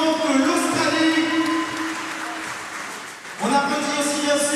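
A boxing tournament crowd applauds steadily, sustained clapping that dips briefly and swells again, with an announcer's voice layered over it throughout.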